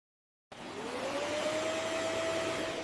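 A household vacuum cleaner switching on after a short silence, then running loud and steady with a constant whine and airy roar, close by with no talking.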